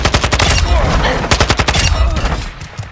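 Sustained automatic fire from an AK-74 rifle in the video game Modern Warfare 2, a loud, dense stream of rapid shots at a steady rate with heavy low-end punch, tailing off at the end.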